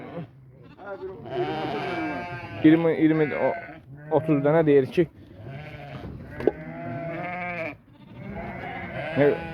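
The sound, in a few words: sheep and lambs bleating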